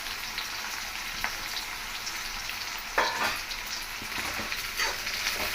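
Garlic and curry leaves fry in hot oil for puri masala, a steady close crackling sizzle with a few sharper pops and stirring scrapes, unbroken throughout.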